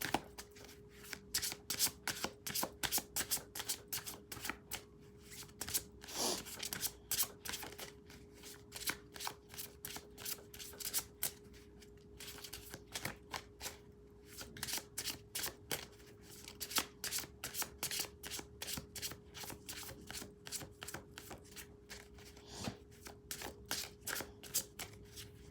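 Oracle cards are shuffled over and over close by in a quiet room, a long run of fast crisp riffling bursts with brief pauses between, and no talking.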